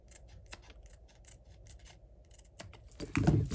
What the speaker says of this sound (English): Now we're going to turn this over and trim